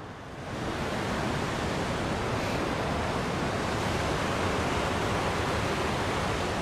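Water rushes steadily at Devil's Hopyard State Park, a loud, dense broadband wash that starts softly and then holds constant for several seconds with no voices.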